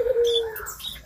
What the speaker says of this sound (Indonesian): nyaring bunyinya, pokoknya baguslah burung ini